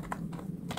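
Computer keys are pressed in quick succession while shapes are duplicated in PowerPoint, giving a few sharp, close clicks with no talking.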